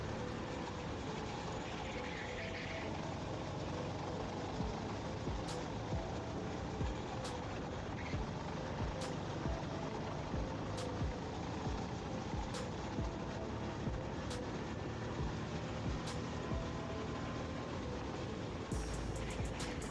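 Steady road traffic rumble with heavy trucks and other vehicles passing near a go-kart track, a continuous loud broadband roar with no talking.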